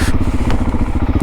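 A motorcycle engine rumbles close and loud with a steady, throbbing low pulse while riding around a roundabout.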